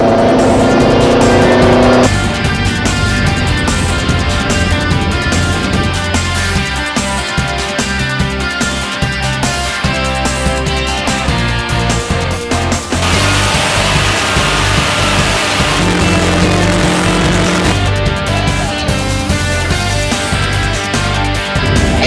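The world's fastest motorcycle screams through a high-speed timed run on a land-speed course, a loud, sustained, unbroken engine roar with shifting harmonic tones and heavy wind noise throughout, no talk.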